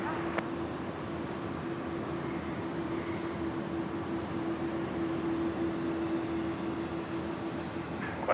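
An airliner takes off at Brisbane International Airport, heard as a faint, distant and steady broadband roar with a thin constant tone running under it.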